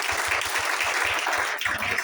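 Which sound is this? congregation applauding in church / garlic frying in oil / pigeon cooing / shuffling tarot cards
congregation applauding in church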